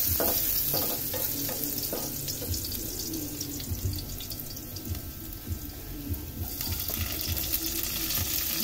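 Hot cooking oil sizzles loudly and steadily in a pan while tuna, eggplant and pechay are cooked for a coconut-milk dish, with stirring scrapes over the constant crackle and no voices.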